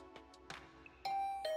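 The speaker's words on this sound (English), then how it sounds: "I'll ring the bell just in case." A doorbell rings in the video game The Hundred Line: Last Defense Academy, a clear two-tone ding-dong chime that sounds once near the end after a few soft clicks, close and loud, with no talking.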